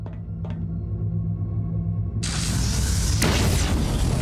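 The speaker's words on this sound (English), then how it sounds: "Let's test out this flamethrower" Flamethrower fired through a window in the space shooter Void Bastards, a sudden loud broadband roaring whoosh that bursts in partway through and sustains to the end over low game rumble.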